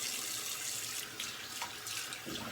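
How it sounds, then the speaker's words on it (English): Water runs steadily from a bathroom tap into a sink for a cold rinse after a wet shave, a continuous soft splashing hiss at low level with no talking. "quick cold water rinse"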